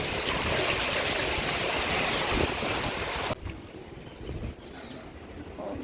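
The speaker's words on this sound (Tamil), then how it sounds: "பயங்கரம் காற்று மழை தீர சவுண்டு பார்த்திங்கன்னா அப்படி ஒரு சவுண்டு" A strong wind and rain storm roars loudly and steadily, then abruptly drops to a quieter patter of rain with occasional gusts, no voices.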